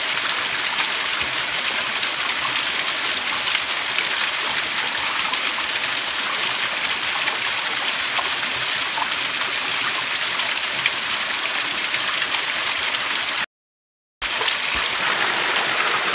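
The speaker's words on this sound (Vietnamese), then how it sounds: "Ở đây thác rất là lớn luôn các bạn" Large forest waterfall on a hillside, a constant loud roaring rush of water that fills the whole scene without letup, broken only by a brief gap.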